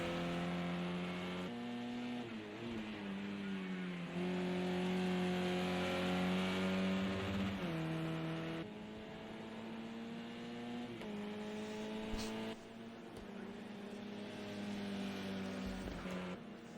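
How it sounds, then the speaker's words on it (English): Touring cars race at Donington, including an Astra. Engines drone with rising and falling pitch as cars accelerate, shift and pass, sometimes near and sometimes farther off, with no talk. "Drifting in a touring car ain't going to get you any quicker."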